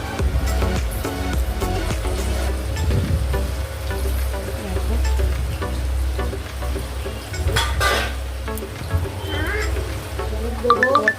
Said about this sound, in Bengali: আমার ওই গরম তেলের মধ্যে পেঁয়াজ যেগুলো ছিল সমস্ত কিছু একসাথে দিয়ে দিল।